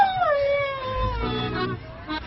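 A pet dog whimpers and howls in a long, sliding, wavering cry that falls in pitch, then breaks into shorter whining yelps near the end, fairly loud and close with no talking.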